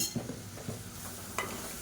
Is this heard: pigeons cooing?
no